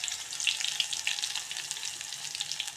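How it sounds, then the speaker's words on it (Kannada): Mustard seeds, cumin and garlic sizzle in hot oil for a horse gram stir-fry, a steady close crackling hiss with dense popping throughout and no talk. "ಎಣ್ಣೆ ಬಿಸಿ ಆಗೈತ್ರಿ, ಅದಕ್ಕೆ ಸ್ವಲ್ಪ ಸಾಸಿವೆಯನ್ನು ಹಾಕುತ್ತಾ ಇದ್ದೀನಿ"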